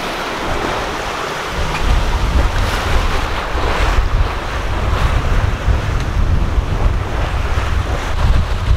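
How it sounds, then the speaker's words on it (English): Rough Caribbean Sea crossing aboard a sailboat, with a big ocean wave surging against the hull: loud, continuous wash and rush of water under heavy wind noise, growing stronger after a moment and churning on steadily. "Watch this, a big wave."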